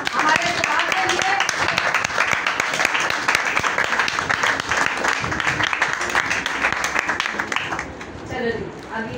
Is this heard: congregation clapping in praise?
yes